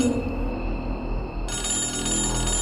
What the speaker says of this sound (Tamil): நடு ராத்திரியில அவனுக்கு மறுபடியும் கால் வருது